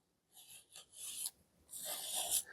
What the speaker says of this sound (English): Now I'm going to be applying it with my scraper and my stencil brush.